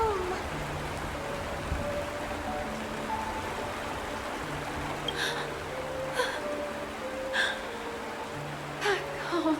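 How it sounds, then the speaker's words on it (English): Steady rain falls in an animated fantasy game cutscene, a continuous soft broadband hiss with scattered drips, while faint tonal hums and a few short breaths or gasps sit over it. "It is raining!"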